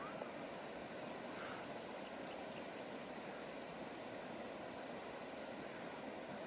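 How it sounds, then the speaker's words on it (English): A wilderness creek flows with a continuous, even rush of water, faint and steady throughout, with no voices heard. "Next to a beautiful creek."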